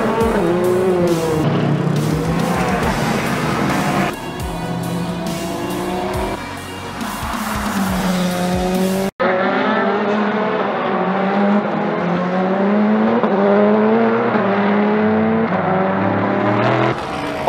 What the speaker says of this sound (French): Ollie Jarvis chasing down the second place car, went off in the Audi and finished his day and the 6 hours in the gravel trap